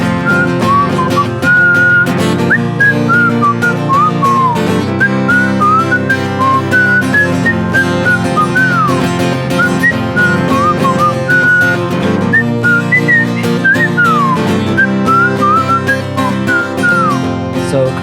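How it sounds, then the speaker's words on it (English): A person whistles a lively, wandering melody for a long stretch, bright and close, with rapid slides and short bursts over a steady background of band accompaniment. "do you guys know how to whistle?"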